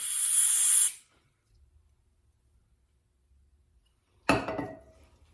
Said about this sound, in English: I'll get some carb spray through there.